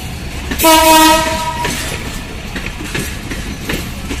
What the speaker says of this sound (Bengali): 66-20 নিয়ে Barendra express Parbatipur rail junction ছেড়ে যাচ্ছে।